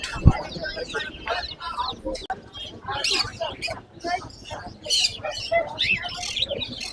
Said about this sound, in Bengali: এগুলো হচ্ছে লাভ বার্ড